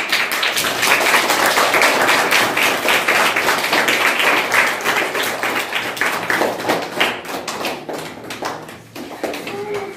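Children clap their hands in sustained applause, a dense, steady patter of many quick claps, close and loud, tapering slightly toward the end, with a voice briefly audible.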